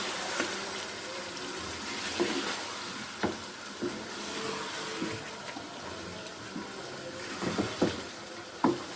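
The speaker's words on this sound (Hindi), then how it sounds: "चिकन शामिल करने के बाद अच्छी तरह मिक्स कर लेंगे इसे।" Chicken is stirred in a pan for Lahori-style chicken karahi. A close, steady sizzle runs throughout, broken by scattered sharp clinks and scrapes of the spoon against the pan.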